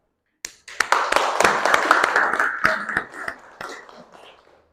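Group applause in a classroom, with a burst of claps from many hands that swells, holds steady for a few seconds and then tapers off, loud and close.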